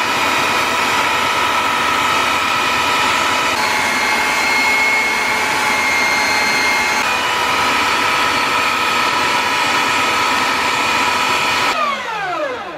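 A power sander grinds against scrap wood in a loud, continuous, close-up whine, holding steady for several seconds before winding down at the end.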